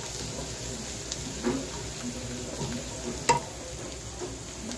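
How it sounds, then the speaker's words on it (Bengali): Light, quiet frying in a pan ahead of adding kochur loti (taro stolons), a soft continuous sizzle broken by a few faint stirring clinks. "আমি একটু হালকা ফ্রাই করে নিচ্ছি, খুব বেশি ব্রাউন করবো না"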